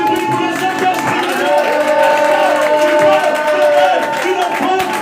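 Loud congregation at a prophecy and proclamation service cheering and whooping for the Holy Spirit, a sustained roar of shouts and clapping with overlapping voices throughout.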